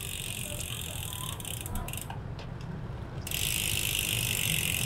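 Freewheel hub clicking from a Sava Colorado bicycle with Shimano 105 R7000, a steady fine ratcheting buzz heard up close that grows louder and faster partway through as the wheel spins.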